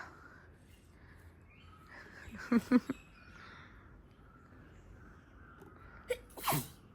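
A person sneezes twice near the middle of a quiet night scene, with one more sharp sneeze-like burst near the end, over a faint steady background with light hiss.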